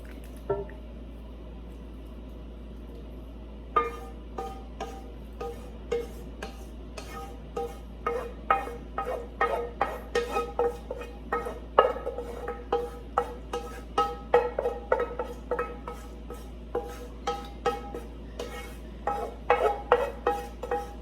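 Spaghetti sauce being mixed in a pot during home cooking, with quiet background for the first few seconds, then a run of close, repeated scraping and sloshing strokes of a utensil against the pot, steady and rhythmic.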